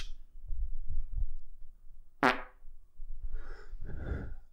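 A single loud, raspy fart-like burst rings out over low rumbling background noise, followed by breathy vocal sounds that may be a person imitating it.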